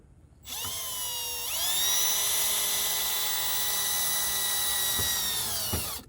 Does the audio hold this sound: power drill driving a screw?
yes